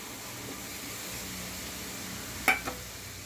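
Pre-fried potatoes tipped into a simmering cabbage curry for Saraswati puja, a steady low sizzle throughout with two quick clattering knocks near the end as the pieces drop into the pan; no one speaks.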